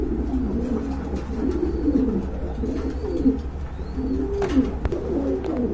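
Imported fancy pigeons cooing at a pigeon sale, their low rolling coos repeating steadily and overlapping close by, with no talking.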